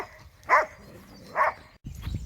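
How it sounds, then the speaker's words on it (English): Two sharp, moderately close barks from dogs scuffling on a countryside footpath, spaced about a second apart, followed by a burst of rough rustling and movement. "I had to just stop, the dogs were fighting."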